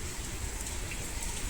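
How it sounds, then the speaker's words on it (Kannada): Heavy rain pours down outside a house in a steady, dense, even hiss with no pauses, and no voices. "ಹೆವಿ ಮಳೆ ಗೈಸ್."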